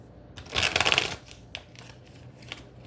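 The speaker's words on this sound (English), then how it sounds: "Let's do 3 shuffles here" Tarot cards being shuffled, one quick burst of riffling and rustling up close, followed by a few faint card taps. The room is otherwise quiet.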